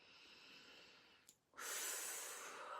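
Slow breathing in and out during a tapping exercise, a soft steady breath followed by a short pause and then a louder, close airy exhale.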